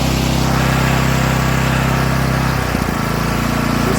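A loud, close pressure washer engine runs steadily, then its pitch and revs drop partway through before it settles into a lower, even drone.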